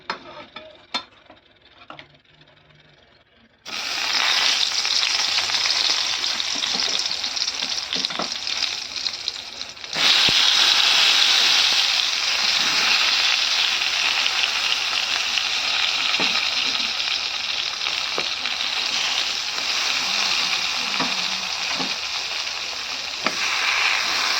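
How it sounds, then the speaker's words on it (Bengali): Eggplant slices sizzle loudly in fish oil, a dense hissing fry that starts abruptly after a quiet moment and swells further midway, with stirring clinks and scrapes over the constant crackle, no talk. "এবার কিন্তু আমি মাছের তেলে কিন্তু দেখো বেগুনগুলো কাটা আছে, বেগুনগুলো কিন্তু ভেজে নেব"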